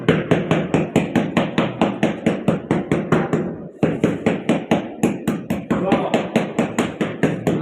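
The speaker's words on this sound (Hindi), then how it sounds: "वो मिस्त्री ने मारा हथौड़ा।" A hammer strikes rapidly and loudly while tiles are fitted, the sharp blows landing in a fast, even rhythm with only a brief pause midway.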